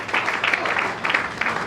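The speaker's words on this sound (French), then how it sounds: "Acclamons très fort pour lui." A church congregation at a prayer and fasting service applauds, with steady, dense clapping from a crowd throughout, moderately loud and without pauses.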